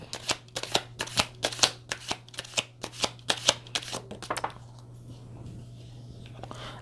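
Tarot cards are shuffled in a quick, even run of about a dozen crisp riffling bursts close to the mic. A faint steady hum sits underneath, and the shuffling stops abruptly near the end.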